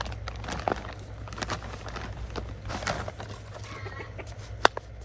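Chickens squawk and cluck in bursts close by, with a sharp louder cry near the end, over a steady low hum at a backyard potting area.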